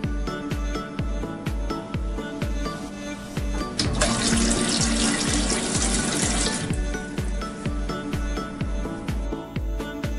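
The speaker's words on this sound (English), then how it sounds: "you have a Japanese style toilet. Which washes your butt after you've done your business." Water sprays steadily from a Japanese bidet toilet's washing nozzle, a close hissing stream with rhythmic pulsing and a brief louder surge in the middle, no talking.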